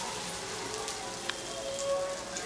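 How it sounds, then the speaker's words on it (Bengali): Strips of jute leaf dipped in batter sizzle steadily in hot oil as fritters fry, a close, even crackle with no voices. "ব্যাটারের মধ্যে ডিপ করে তেলে ছেড়ে দিচ্ছি"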